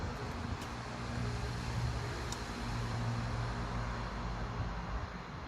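Steady traffic noise from a very busy main road near a small cemetery, heard as a continuous low rumble of passing cars with some wind, no talking.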